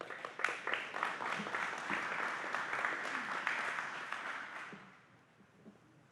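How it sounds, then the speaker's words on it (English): Audience applause at a council health and human services committee community conversation on flavored tobacco, steady broadband clapping from a room of people for about five seconds, then tapering off to quiet. "Can you give him a round of applause?"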